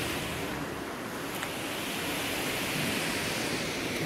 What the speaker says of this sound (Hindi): उधर से पानी आता है बुरला के साइड से